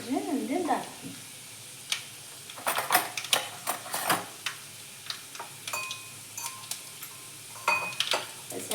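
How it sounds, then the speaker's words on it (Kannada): Dry red chillies crackle and sizzle in hot oil, a run of sharp pops and spits scattered irregularly over a steady frying hiss, close by, with a brief voice at the start. "ಒಣ ಮೆಣಸಿನ್ಕಾಯಿ ಹಾಕಿ ನೋಡ್ರಿ, ಸ್ವಲ್ಪ ಚಟಪಟ ಅನ್ನಿಲ್ರಿ"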